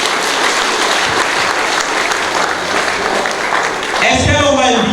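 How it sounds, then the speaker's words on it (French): Wedding reception guests clap loudly and vigorously in dense, sustained applause filling the room, with voices rising over it near the end. "applaudissez très fort pour briser cette tête"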